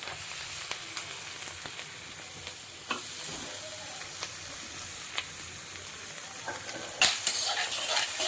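Onion and garlic frying in a pan make a constant close sizzle, with occasional soft clicks and scrapes of stirring and a few sharper crackles near the end.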